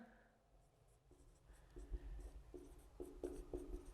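Chalk or marker writing on a board during a Hindi-language real analysis lecture on Riemann integration, a series of short scratchy strokes in bursts, close and fairly quiet, with no talking.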